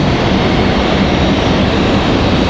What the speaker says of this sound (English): So this is going to be a MAX 8 coming in from Vancouver.